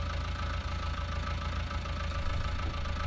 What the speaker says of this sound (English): It's always a pleasure driving this tractor.